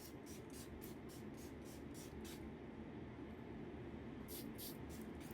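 A spray bottle hisses in a rapid run of short spritzes, then pauses before two or three more, over a steady low rumble.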